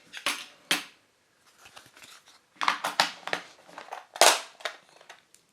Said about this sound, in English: And placing the cutlery set.